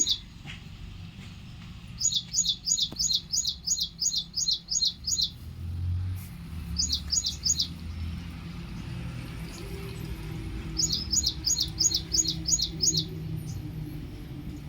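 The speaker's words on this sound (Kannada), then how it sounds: "ಇಲ್ಲೊಂದು ಬರ್ಡ್ಸ್ ಕೂಗ್ತೈತೆ, ಎಷ್ಟು ಚೆನ್ನಾಗಿ ಸೌಂಡ್ ಕೇಳಿಸ್ಕೊಳ್ಳಿ." Birds call from near a guava tree in a home garden, giving bright, rapid bursts of repeated chirps in three clear groups. A faint car passes low in the background.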